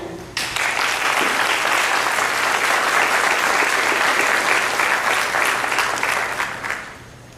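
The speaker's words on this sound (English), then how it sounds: "Please help me in applauding Caitlin." An audience applauds at a candidates' forum in Castroville, Texas, a dense, loud burst of clapping that holds steady for several seconds before tapering off.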